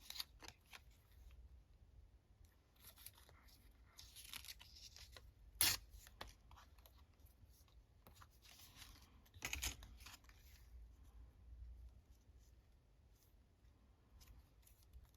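Scissors cutting junk mail envelope paper, a few quiet crisp snips and rustles of paper with soft handling in between, close and faint.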